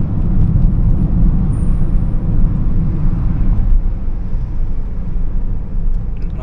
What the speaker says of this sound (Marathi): त्याच्यामुळे आता ती माल ट्रकची एवढी मोठी गर्दी लागली